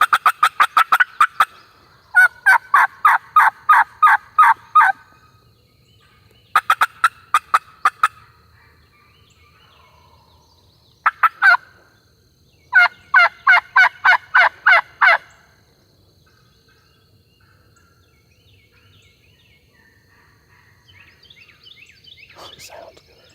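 A wild turkey near a green field gobbles in repeated rapid bursts of rattling calls, loud and clear from moderate distance, with quiet pauses between volleys and faint softer bird calls near the end.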